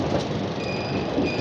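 The Saharsa-Amritsar Garib Rath Express pulling out of Ghaziabad station in India, a close, steady rumble of rolling wheels and rail noise with faint squealing tones, no voices.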